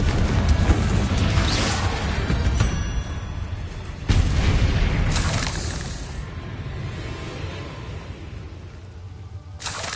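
Confringo fire spells blast in Hogwarts Legacy, heavy booming explosions with crashing bursts over a dense rumbling game soundscape, one big impact near the middle and more flaring later, no speech.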